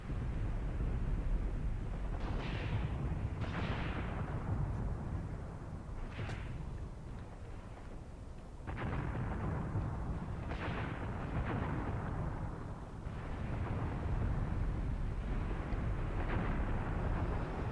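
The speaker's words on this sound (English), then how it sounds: "I captured a light infantry gun doing its thing." A light infantry gun fires repeatedly in the World War II tactics game Graviteam Tactics, with several distinct booming reports spaced a few seconds apart over a constant dull battlefield rumble, fairly faint overall.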